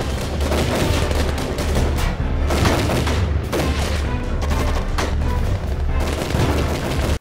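Gunfire in a Rise of the Dinosaurs film scene, sustained loud bursts of automatic fire and booming shots in rapid, overlapping volleys that run almost without pause before cutting off.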